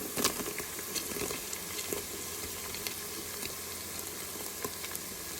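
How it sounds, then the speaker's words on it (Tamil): Onion and potato sautéing in a pan for vegetable biryani, a gentle continuous sizzle with scattered stirring clicks and scrapes, close and quiet, without talk. "இப்போ இதை நல்லா வதக்கிக்கலாம்."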